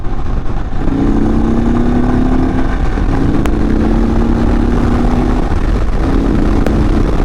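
An Indian Chief Dark Horse motorcycle accelerates hard, its engine note climbing through three rising pulls separated by gear changes, loud and close over steady wind noise.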